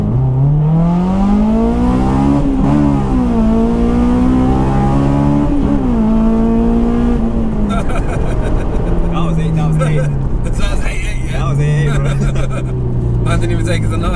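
A modified Honda S2000 engine revs up through the gears toward 9000 rpm with a rising, buzzing whine, climbing again before easing off, loud and close.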